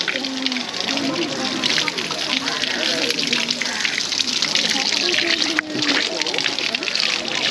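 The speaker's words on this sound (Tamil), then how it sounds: "கை கால் கழுவிட்டு" Water runs and splashes loudly and steadily as hands and feet are washed at a temple food hall on Nainativu island, with voices talking over the gushing flow.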